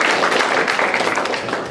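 Steady, dense clapping from a meeting audience cheering for Ryan Bonilla, a continuous wash of many hands throughout the short stretch.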